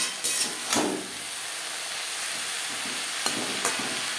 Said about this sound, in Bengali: বেগুনের সাথে শাক বেশ ভালো করে মিক্স করে দেব